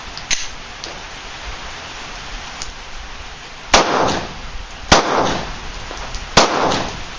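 A Glock 19 Gen 4 pistol fired at a shooting range: three loud, sharp reports about a second and a half apart follow a quiet stretch with faint clicks and clatter.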